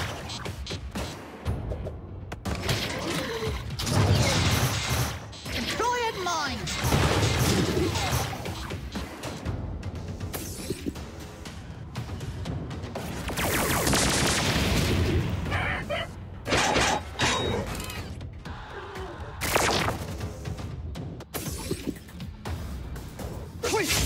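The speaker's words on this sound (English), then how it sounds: "Bigger explosions are better." Loud, chaotic blasts and shattering crashes from explosions in the game Atlas Reactor (Gremolitions Inc.), with repeated booms and whooshes over a dense bed of game noise, and voices speaking between the bursts.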